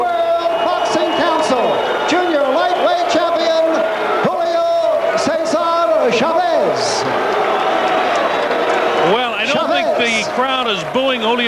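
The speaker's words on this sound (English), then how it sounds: "Crowd is booing Julio Cesar Chavez so much" Boxing arena crowd booing Julio Cesar Chavez after his unanimous-decision win over Juan La Porte, loud sustained jeers and shouting voices rising and falling, with wailing vocal boos throughout.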